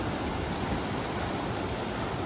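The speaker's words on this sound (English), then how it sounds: "Another creek crossing." A creek crossing on a mountain trail fills the air with steady, broadband rushing water, loud and close, continuous with no breaks or talk.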